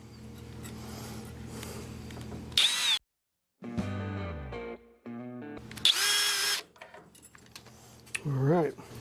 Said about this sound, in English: Now we're going to up drill to the size of the probe now.